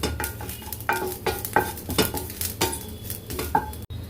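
Dried coconut roasting in a pan, stirred with a spatula that scrapes in repeated, rhythmic strokes over a low sizzle, close and clear, with no voices.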